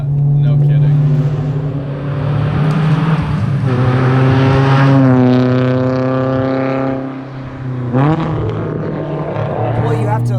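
A Honda S2000 AP2 track car's naturally aspirated engine revs hard toward 8,400 RPM, a loud rising wail that climbs, holds, drops and surges again, close and dominant with no talk over it.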